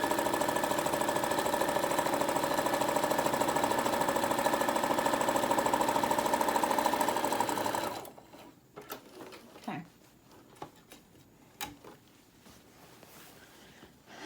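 A sewing machine runs in one continuous, steady mechanical whir while stitching down the side of a fabric tote bag, then stops abruptly partway through, leaving quieter scattered handling clicks and rustles.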